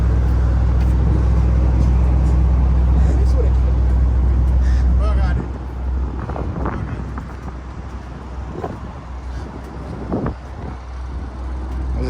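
A tuned BMW M5 G90 with QS Tuning work runs outdoors, a loud steady low engine drone for the first five seconds, then eases to a lower rumble with brief revving bursts and wind buffeting the microphone.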